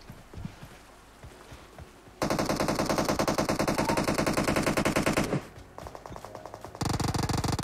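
Automatic weapon fire in PUBG Mobile: a long, sustained stream of rapid shots, a short pause, then a shorter burst and a final dense volley, loud and close against quieter in-game background noise.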